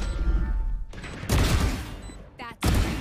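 A sudden explosion in the Valorant first-person shooter, with loud bursts of gunfire and booms crashing in repeatedly across the clip, close and dense.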